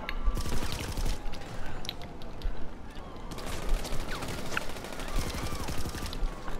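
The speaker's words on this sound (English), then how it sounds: "I felt the gunshots." Rapid gunfire in GTA Online, bursts of automatic shots in quick rattling succession with mechanical clicks, loud and close, fading in and out across the stretch.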